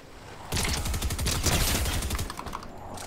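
Rapid submachine gun fire in a video game during a solo ranked match, a dense close burst of shots running steadily for about two seconds, then tapering into scattered quieter shots.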